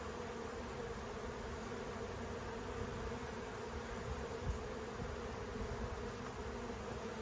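A steady, dense hum of many honey bees buzzing close by, continuous and even throughout with no voices.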